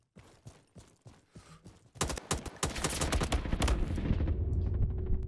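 Rapid gunfire from a newly chosen gun in a Roblox shooter styled after Call of Duty: a sparse crackle of shots gives way to a loud, dense, sustained automatic burst.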